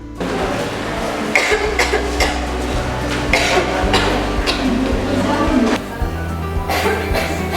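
A woman coughs several times in short, sharp bursts in a hospital, over a steady background hum, with faint clinking noises nearby.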